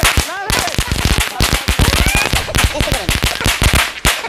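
Firecrackers bursting outdoors in rapid, irregular sharp bangs, loud and close, with people shouting and talking between the blasts.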